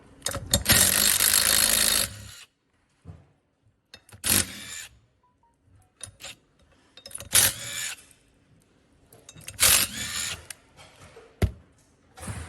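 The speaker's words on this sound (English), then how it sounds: "going to now take them 4 nuts off" Nuts being undone from a Clearview Next Gen or Compact towing mirror base, giving several separate bursts of ratcheting, clicking and scraping metal, one long and loud at the start and shorter ones after, close by with quiet gaps between.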